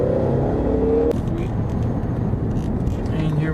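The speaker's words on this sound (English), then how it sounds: "Let's say we just want to put the car in sport and we want to floor it." A Ford Mustang EcoBoost floored in sport mode, its steady engine tone giving way to a broad, loud rushing roar as it accelerates on a road after a roundabout, heard from inside the car.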